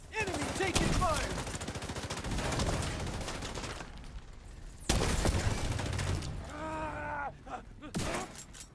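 Rapid bursts of gunfire in a first-person shooter video game, loud and continuous for several seconds, pausing, then a sharp shot and further fire with a voice speaking over it.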